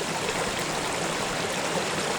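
A stream flows through woodland, a steady broadband rush of running water, close and constant with no voices over it.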